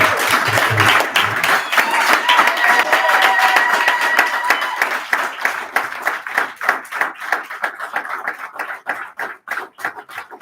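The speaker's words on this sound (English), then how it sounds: "can we give it a big round of applause?" Audience applause at a Congolese community inauguration event in Ireland: dense clapping that starts full and loud, then thins into scattered, individual claps as it fades over about ten seconds, with faint voices underneath.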